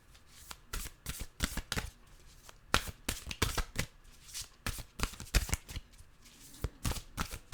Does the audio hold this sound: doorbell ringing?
no